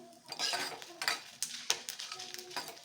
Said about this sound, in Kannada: ಮೆಂತೆ 1/4 ಸ್ಪೂನ್ ಹಾಕ್ಕೊಳ್ತಾ ಇದ್ದೀನಿ. ಇದು ಹುರ್ಕೊಳ್ಳೋಣ.